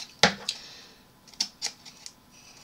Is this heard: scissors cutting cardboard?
yes